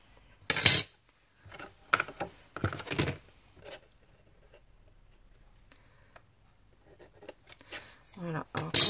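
Scissors snip and clack in short, separate bursts as material is cut for a homemade mailbox, close and sharp with quiet gaps, and a voice speaks over part of it.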